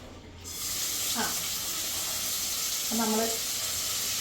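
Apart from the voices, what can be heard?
vegetables and lentils sizzling in a hot pan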